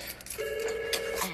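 A telephone rings in an office at closing time: one short electronic ring tone, fairly faint and sustained for under a second, over a quiet room.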